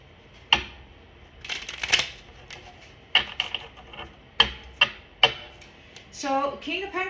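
Tarot cards from a deck are handled and shuffled, with sharp separate riffles and snaps spaced irregularly, close and fairly loud, and a brief voice-like sound near the end.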